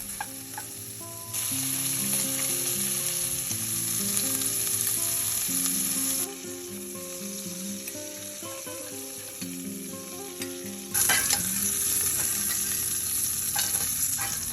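Sausage slices frying and browning in a pan give a loud, continuous close sizzle with occasional scraping stirs, and the hiss swells sharply near the end.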